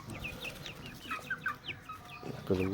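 Young native chicks, around two months old, cluck and chirp in short bursts close by, with a louder burst of calls near the end.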